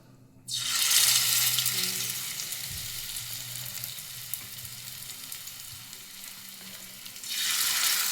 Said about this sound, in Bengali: এবার একটা একটা করে বড়া দিয়ে দেবো চলো দেখতে থাকো